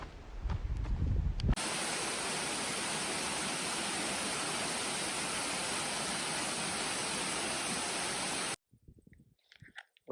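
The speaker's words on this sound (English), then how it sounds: "I'll take some footage of the waterfall." Waterfall in New Zealand's South Island, a steady broadband roar of falling water that holds loud and constant for about seven seconds, then cuts off to near silence with a few faint knocks.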